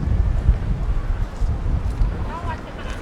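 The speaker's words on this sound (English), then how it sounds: "see the wind blow, blow" Gusty wind blows across an outdoor beach resort, rumbling and buffeting the microphone in a steady low roar with faint background activity.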